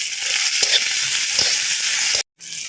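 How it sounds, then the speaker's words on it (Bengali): Bitter gourd fries in hot oil with a loud, continuous sizzle and occasional stirring scrapes, which cut out abruptly near the end before the hiss resumes. "উচ্ছেটাকে ভেজে নিতে হবে তাই না?"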